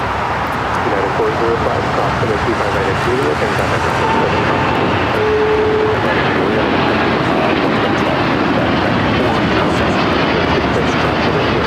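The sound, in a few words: United Airlines Boeing 787-9 Dreamliner taking off at LAX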